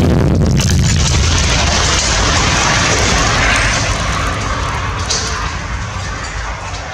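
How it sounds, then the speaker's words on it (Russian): An anti-tank guided missile launch blasts with a loud roaring rush that starts abruptly and sustains, slowly fading as it recedes. "Выстрел."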